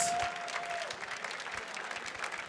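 A gala crowd at The Mountaineers 2022 fundraiser gives a round of applause for $500 supporters, steady moderate clapping from many hands at a slight distance.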